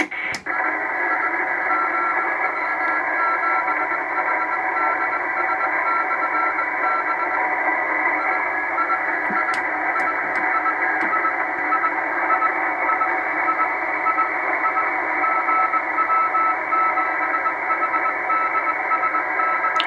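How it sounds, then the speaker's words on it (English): A steady hissy 10 metre radio beacon signal near 28.220 MHz on an Anytone AT-5555 mobile receiver, a faint continuous tone running through it, unbroken for the whole stretch, a few brief clicks midway. "There's a beacon fairly locally. Let's see if I can pick it up."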